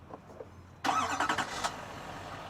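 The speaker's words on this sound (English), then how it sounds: "and the truck starts." A 2024 GMC Sierra 2500HD Denali Ultimate three-quarter-ton pickup starting by remote start: a brief quiet lead-in, then a sudden loud engine catch and crank burst settling into a lower idle within a second.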